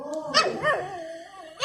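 Small puppy barking and yelping in short, high-pitched bursts, close by, a few quick yips with whiny pitch slides between them.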